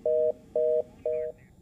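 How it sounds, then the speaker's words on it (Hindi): Telephone tone after a call is cut off: three steady, loud electronic beeps of equal length with short gaps between them, alone with no talking. "फोन काट दिया आपने"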